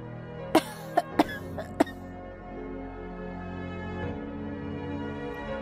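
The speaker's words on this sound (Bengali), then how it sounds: "ইস, কাশিটা তো কমছে না।" A woman ill with tuberculosis coughs four times in quick, sharp bursts over about a second and a half, close by, then a low murmuring bed of sound lingers after the fits.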